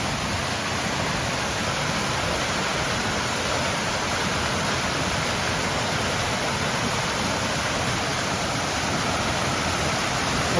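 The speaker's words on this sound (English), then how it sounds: "Waterfall and a fountain." Steady broadband rush of a waterfall and fountain in a rainforest park in Uruapan, Mexico, a dense unbroken roar of falling water holding constant and close throughout.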